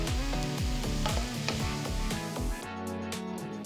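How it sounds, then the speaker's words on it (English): Vegetables, grated cauliflower and rice sauté in a hot pan with a steady crackling sizzle, while a utensil scrapes and stirs in repeated strokes; clanking fades toward the end. "Saute for about 2 to 3 minutes."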